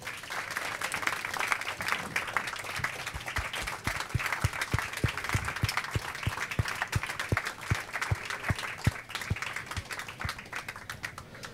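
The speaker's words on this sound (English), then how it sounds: "When they were clapping" Audience clapping at a cast interview for Mr. Sloane, steady continuous applause from a crowd with sharp individual claps, moderately loud throughout.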